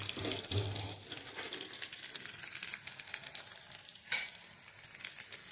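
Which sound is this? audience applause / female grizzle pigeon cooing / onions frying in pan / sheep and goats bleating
onions frying in pan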